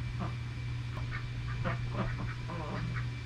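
Farm ducks quacking in a rapid, irregular series of short calls, at moderate distance over a steady low hum, with no talking.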